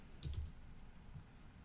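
A noisy computer keyboard being typed on, a quick burst of a few clacking keystrokes near the start, then faint scattered taps in a quiet room.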